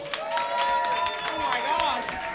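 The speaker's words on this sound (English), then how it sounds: "Clap it up for the judges, people." Audience applause for a judges panel at a roast battle comedy show, a dense steady wash of clapping with cheers and whoops over it, loud and sustained throughout.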